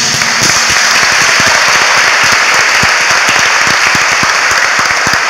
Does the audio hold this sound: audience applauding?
yes